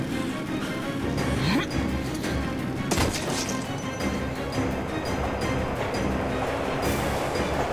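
A train in the video game Metro: Last Light rumbles and clatters steadily with a dense mechanical roar, loud and continuous throughout, with occasional sharper clanks over the din.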